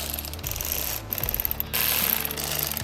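Flat blade screwdriver backing out T20 torque trim screws on a fourth gen Ram 2500/3500 door panel, giving close, rapid ratcheting metal clicks in bursts with brief pauses.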